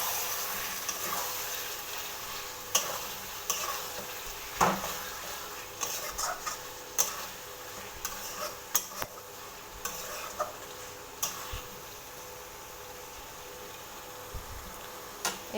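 Marinated chicken frying in spiced masala is stirred with a spoon, giving a steady soft sizzle, scattered scraping knocks against the pan and a few sharper clinks, close and even, with no talking.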